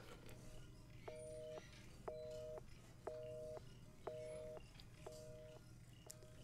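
A telephone in the Resident Evil 7 video game rings in a steady repeating pattern, about once per second, moderately clear over a low ambient hum.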